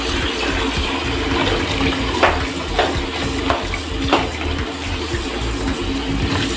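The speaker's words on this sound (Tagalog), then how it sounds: "huhugasan ko munang maigi babad sa tubig" Food is washed thoroughly in water in a home kitchen while preparing breakfast, with running and splashing water as a constant close wash and a few louder sloshes.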